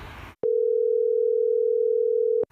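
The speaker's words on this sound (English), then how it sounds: "I'm going to give him a call now to see if he's got it in his collection." A steady telephone dial tone holds for about two seconds, loud and alone, cutting in abruptly after a brief burst of other sound as a phone call is placed.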